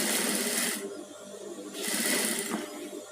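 A sewing machine stitching a padded gown runs in two close, steady bursts of rapid mechanical clatter with a brief pause between them.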